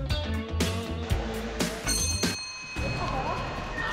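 Alarm signal ringing during a Thai TV game show: a bright electronic bell-like ringing with sustained tones, mixed with busy broadcast sound and studio noise throughout.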